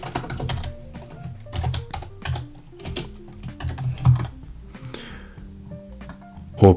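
Code being typed on a computer keyboard: close, uneven bursts of key clicks and soft thumps with short pauses between runs, ending in one louder knock.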